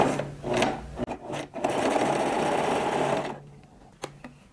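A sewing machine stitches a waistband onto high-waisted panties in a steady whirring run of about two seconds, with fabric handling and short starts around it.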